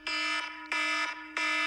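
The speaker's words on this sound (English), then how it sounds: "That's my alarm in the morning." A morning phone alarm plays three loud, harsh buzzing pulses in a steady rhythm, each lasting about half a second with short gaps between them, heard alone and up close.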